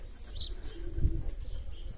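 Pigeons coo softly with low, murmuring calls against a quiet background, with no talking.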